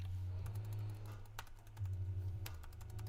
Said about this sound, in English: The keyboard's not responding again.